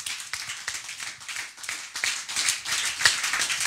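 Congregation applause in a church service, a dense run of rhythmic hand claps, fairly close and steady, with no talk over it.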